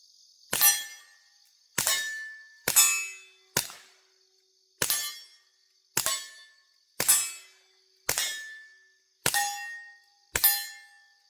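Suppressed Taurus TX22 Compact .22 pistol (Dead Air suppressor) rounds striking steel targets: ten sharp, ringing metallic clangs at a steady pace of roughly one per second, each decaying quickly, with no talking.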